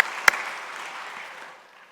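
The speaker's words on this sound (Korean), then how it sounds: "우리 하나님께 감사와 영광의 박수를" A church congregation claps in thanks during a Sunday worship service, with a sharp clap near the start and a broad wash of applause fading out over two seconds.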